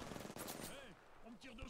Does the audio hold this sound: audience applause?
no